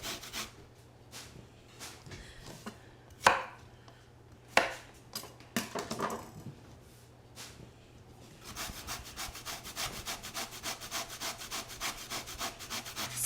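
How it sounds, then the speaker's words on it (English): Sweet potatoes rubbed against a hand grater in a home kitchen, giving scattered rasping strokes early on, then a steady, fast run of repeated scraping strokes near and alone. "So I'm going to keep grating these."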